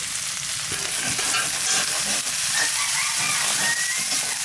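Spices and potatoes sauté in a pan for a Bengali fish curry, a dense steady sizzle broken by frequent scraping and stirring sounds close by.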